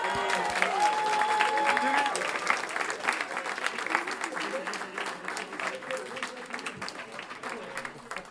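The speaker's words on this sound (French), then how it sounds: "On peut les applaudir." Crowd applause for hackathon winners at an awards announcement, many hands clapping loudly at first and then tapering, with voices and chatter mixed in and a brief whistle-like tone early on.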